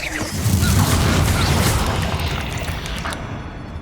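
A Bombarda blasting spell goes off in Hogwarts Legacy, a loud booming burst with heavy low rumble that swells early and then slowly decays over a few seconds.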